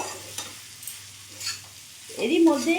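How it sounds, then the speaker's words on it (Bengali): Fried diced potatoes are stirred into chicken mince in a pan, producing a low sizzle with a few light scrapes and a louder burst of frying and spoon movement toward the end. "এবার চিকেনের সাথে ভালো করে মিশিয়ে নেব।"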